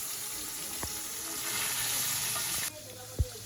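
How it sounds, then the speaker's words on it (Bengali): River-caught puti fish (pool barb), taken on a hook and line, fry in a pan with a steady close sizzle, broken by a couple of brief knocks and an abrupt drop in level near the end. "গাঙ্গের পুঁটি মাছ, বড়শি দিয়ে ধরা পুঁটি মাছ ভাজি চলতেছে।"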